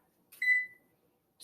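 Microwave-style oven control panel gives one clear electronic beep while preheat is set for a pie, then a second brief beep begins at the very end, with quiet in between.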